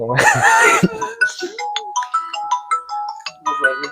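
A phone ringtone sounds for an incoming call, a loud bright burst at first, then a repeating tonal melody that plays on with some speech over it.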